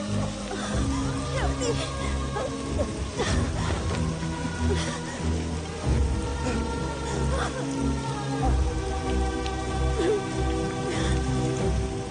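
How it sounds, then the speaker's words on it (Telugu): Steady rain patters on surfaces at a temple in a dense, continuous wash, with occasional louder drops and faint voices underneath. "అయ్యో, వర్షం వచ్చేలా ఉందే."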